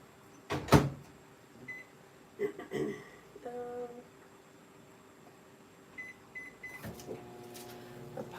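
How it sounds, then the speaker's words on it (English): A microwave oven reheats a cookie pop mixture, its door thumping shut, a few beeps and a steady low hum running beneath, with scattered clicks and knocks around it. "Pop it back in the microwave again."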